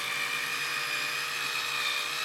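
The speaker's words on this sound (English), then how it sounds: "it sounds like you're unscrewing these out of a lock nut" A steady, high whine runs without a break as tight screws are backed out of the hard plastic front axle of an Axial Ryft RC vehicle. It is close and constant, with no talking.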